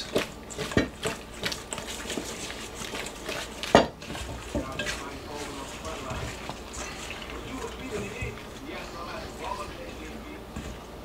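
Steak and potato kebab pieces stirred through a marinade in a bowl, with utensil scrapes and clinks against the dish and a few sharp knocks, close and fairly busy over a low room background.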